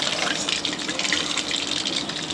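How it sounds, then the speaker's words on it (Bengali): Khaja pastries deep-frying in hot oil for a Rath Yatra sweet, giving a steady, dense bubbling sizzle that runs evenly from start to finish with no talk over it. "দেখতেই পাচ্ছ খাজাগুলো কীরকম ভাজাটা হচ্ছে"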